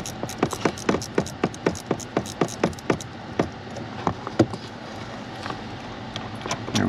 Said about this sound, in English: I'm trying to speed this up with the wrench now.